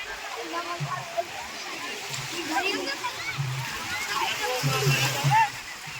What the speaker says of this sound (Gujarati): એટલા મસ્ત મોજા આવે છે જોવો તમે